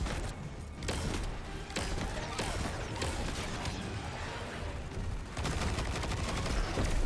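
Enemy gunfire in Destiny 2 rattles in dense, overlapping volleys of shots and impacts against a steady roar of combat noise, fairly loud and continuous throughout.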